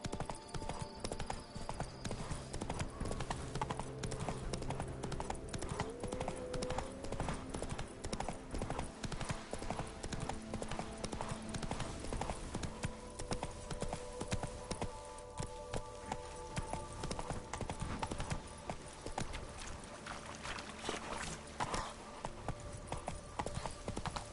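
A horse gallops in The Witcher 3: Wild Hunt, its hooves clip-clopping in a fast, continuous rhythm under in-game music and ambience.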